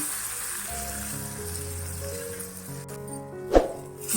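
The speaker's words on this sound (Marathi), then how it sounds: "आता ही आपली फोडणी झाली ती याच्यात घालते" A hot tempering is poured into buttermilk kadhi, raising a soft continuous sizzle with a brief sharp splash-clink near the end.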